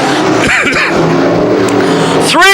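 Modified race cars roar around Can-Am Speedway, loud engine noise close by, with a car sweeping past near the end in a sharp rising-then-falling pitch.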